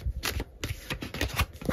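Tarot cards being shuffled by hand, a soft papery riffling and slapping in quick bursts, close and fairly quiet, with no voice.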